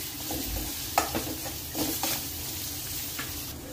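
Ginger garlic paste with turmeric frying in hot oil, a steady close sizzle with a few soft stirring scrapes and clicks, no talking.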